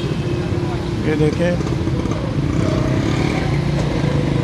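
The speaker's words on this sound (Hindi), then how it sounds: "शोर बहुत ज़्यादा, मोटरसाइकिलों का, गाड़ियों का, ये जो रिक्शा वगैरह है इनका तो बहुत ही ज़्यादा होता है" Busy city traffic at a chowk in Sialkot, with motorcycles, cars and rickshaws, makes a constant close rumble of engines under a voice.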